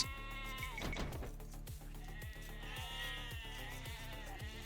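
Sheep bleating in a real-time strategy video game, a loud wavering bleat near the start, then steady game music with a repeating rhythmic pulse throughout.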